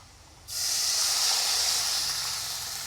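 Water poured into a pan of fried garlic, potato and dried chilli, bursting into a sudden loud hissing rush of steam that holds steady and then slowly eases.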